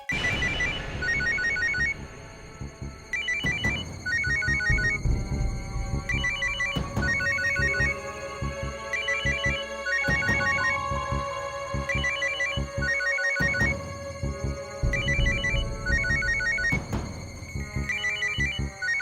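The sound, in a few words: telephone ringing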